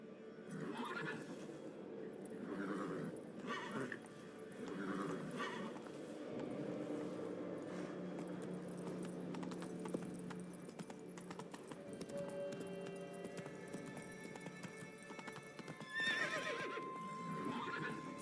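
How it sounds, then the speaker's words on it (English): Roach the horse gallops in The Witcher 3: Wild Hunt, with continuous rhythmic hoofbeats, snorts and whinnies running throughout over steady game ambience. "Run, Roach"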